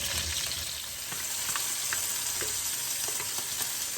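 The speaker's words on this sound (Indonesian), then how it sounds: "Ini kita tumis hingga terasa harum baunya." Ground spice paste for rendang sautéing in a pan, a steady loud sizzle and crackle with occasional faint stirring scrapes, continuous and close, with no voices.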